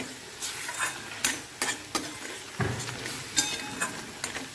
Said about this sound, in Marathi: हे आपण व्यवस्थित छान परतून घेऊया जोपर्यंत ह्याला तेल सुटत नाही